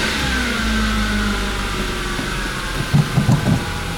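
A car engine idles with a steady low rumble while its clutch is checked for noise, and a few louder knocks or revs come near the end.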